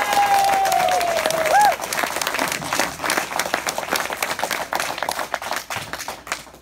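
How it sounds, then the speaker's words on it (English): Audience applause for guest speaker Mayor Greg Fischer at a Michael Bloomberg presidential campaign field office opening in Fayetteville, a steady crowd of clapping hands that builds and continues for several seconds, with a brief tone at the start. "Let's give him a big round of applause."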